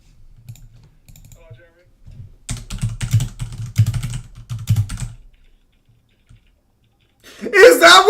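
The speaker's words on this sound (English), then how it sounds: "Is that what you hear when I use my keyboard?" Rapid clicking keystrokes on a computer keyboard, a dense burst of close, crisp typing lasting a few seconds, preceded and followed by quiet talk.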